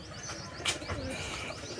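Pigeons kept in a home loft, soft cooing and chirps close by over a steady background, with a brief flutter, no talking.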